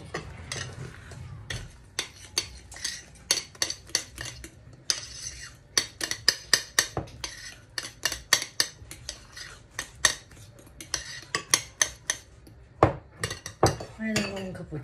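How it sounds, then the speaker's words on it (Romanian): Metal utensil clinking and scraping against a pot while stirring a dumpling soup mixture, with quick repeated taps in bursts and short pauses between them, close and fairly clear. "Mai adăugăm încă puțin și amestecăm."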